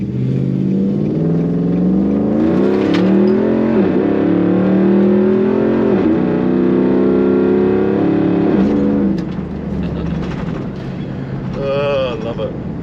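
Loud aftermarket exhaust on a Nissan Patrol Y62 roars as the SUV accelerates, a close, sustained drone rising in pitch through several gear pulls before easing off near the end.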